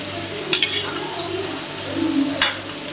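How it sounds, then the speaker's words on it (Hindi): Jackfruit pieces fry in oil for a Bihari-style curry, a continuous close sizzle broken by two sharp metallic clinks of a spoon against the pan. "कटहल को तल भी रही हूँ"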